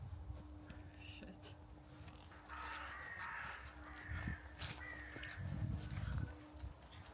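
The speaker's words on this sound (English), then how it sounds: "Tons of birds moving around up in the trees above." Birds move about in trees overhead at a Scottish castle, with a crow cawing several times amid faint rustling and soft outdoor background noise, fairly quiet and at some distance.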